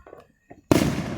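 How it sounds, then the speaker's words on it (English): Fourth of July fireworks going off nearby; after a few faint knocks and rustles, one loud burst hits suddenly and trails into a crackling, fading rumble. "Got more fireworks right over here."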